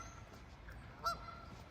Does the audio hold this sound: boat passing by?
no